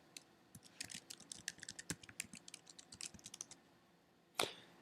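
A password is typed on a computer keyboard in a quick, quiet run of light key clicks, ending with a firmer keystroke.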